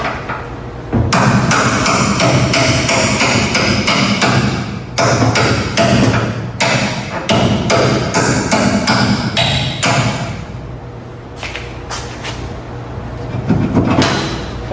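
Sledgehammer striking a cut-down spud wrench used as a punch on an old Ford F100 truck, a rapid series of loud, close metallic blows with brief pauses between bursts.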